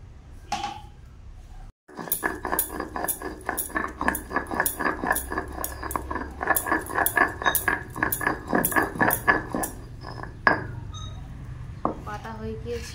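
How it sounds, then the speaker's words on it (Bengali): Tender shiuli leaves are ground into a paste on a stone, producing a run of close, rhythmic rubbing and knocking strokes with short pauses, and a few clinks before and after. "শিউলি পাতাগুলো সব বেটে নেব"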